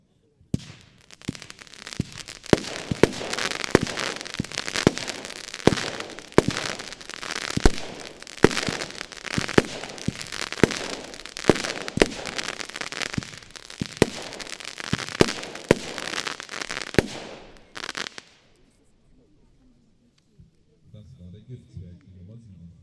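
An Argento Giftzwerg fireworks battery, 20 mm calibre with 16 shots, fires a rapid series of loud cracking bursts with crackling tails for roughly seventeen seconds, followed by near silence and faint background sounds.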